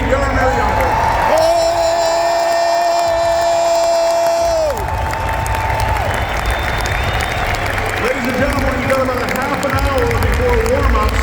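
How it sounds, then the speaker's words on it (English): An arena crowd applauds and cheers hockey player Jaromir Jagr at his number 68 jersey retirement, loud sustained clapping and whoops filling the bowl, with an announcer's amplified voice and tones over it. "fans, how about another round of applause for number 68, Jaromir Jagr"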